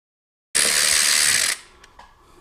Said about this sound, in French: Je vais juste prendre mon ratchet.